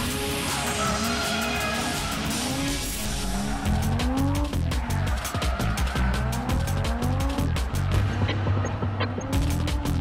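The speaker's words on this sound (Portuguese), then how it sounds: "Na parte externa do circuito, os carros podem chegar até mais de 100" Race cars run on the outer part of a circuit, engines revving and shifting pitch as they pass, with tires squealing and skidding repeatedly in loud, close bursts over about ten seconds.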